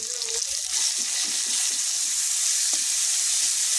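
Chopped onion, tomato and green chillies frying in oil with black cumin, dried red chilli and bay leaf, producing a moderate, continuous hiss with soft clinks and stirring scrapes.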